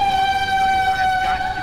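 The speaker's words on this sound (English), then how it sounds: "that just sounded like an air horn" A steady, sustained air horn tone in Halo: Reach blares loudly for the whole moment, holding one pitch with bright overtones and no pauses.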